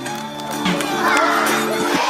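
An audience at a children's summer camp gathering cheers and claps as the camp counselors are introduced, with a dense, lively mix of young voices shouting and whooping, close and continuous throughout.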